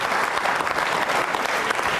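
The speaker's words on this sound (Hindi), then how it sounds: "तालियां बजाइए इस बच्चे के सम्मान में आप।" A TV studio audience claps loudly in honour of a child on a quiz programme, a dense, continuous burst of applause close to the microphone.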